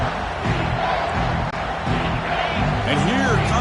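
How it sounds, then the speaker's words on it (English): Loud stadium crowd roar in the NCAA 25 college football video game, a steady swelling din during a red zone defensive stand with Miami, with a commentator's voice running over it throughout. "This crowd is trying to inspire this defense to make a big red zone stop."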